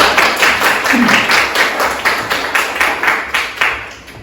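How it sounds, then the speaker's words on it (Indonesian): Students in an eighth-grade informatics class clap after a group presentation, a roomful of hands beating in loose rhythmic pulses that gradually fade. "tepuk tangan."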